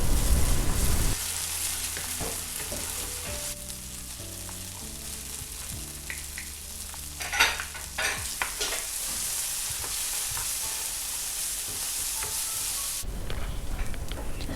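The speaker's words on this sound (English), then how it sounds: "I'm gonna fry my chilies for only a minute, and then I'm gonna be adding in my tomato paste." Chilies and tomato paste fry in a pan for a chicken and prawn curry, a loud, continuous sizzle with scraping and stirring clatter, broken by a short dull knock midway.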